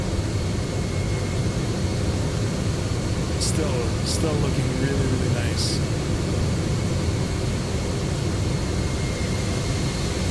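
Steady broadband roar from the GE jet engines of a FlightFactor 767-300 in X-Plane 12, constant and fairly loud throughout, with someone talking briefly over it.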